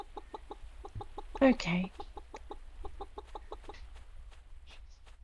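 Chickens cluck in the farming video game Pumpkin Days, a steady run of short, evenly spaced clucks, with a voice talking briefly over them partway through.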